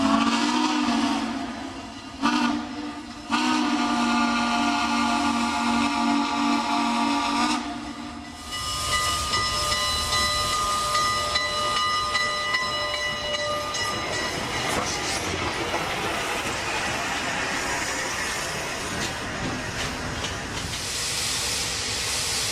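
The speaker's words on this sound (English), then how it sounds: "the locomotive finally arrived back from an overnight stay in Spokane to Portland." Southern Pacific 4449 steam locomotive arriving, its loud steam whistle sounding in long blasts with short breaks, then giving way to hissing steam and rumbling rail noise as the train rolls in close.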